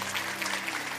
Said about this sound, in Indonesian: Kita beri tepuk tangan untuk kebenarannya.